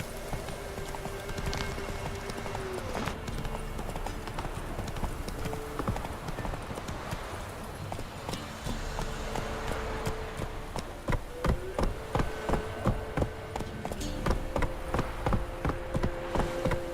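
Roach, a horse in The Witcher 3, gallops with steady clip-clopping hoofbeats that turn sharper and more clearly rhythmic toward the end, under a muted ambient backdrop and a brief voice.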